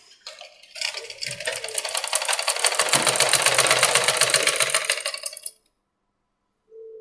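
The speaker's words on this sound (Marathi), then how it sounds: "खालच्या बाजून शिवत न्यायचं." A sewing machine stitches a size 34 three-piece princess-cut blouse, whirring up into a fast, loud, even mechanical chatter for about five seconds before stopping abruptly. A brief faint tone follows in near silence.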